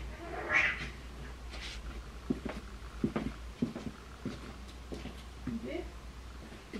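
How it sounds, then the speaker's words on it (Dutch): Cats yowl and hiss at each other in short bursts over a low hum, scuffling sounds between the cries, fairly close. "De katten die vechten echt als broers."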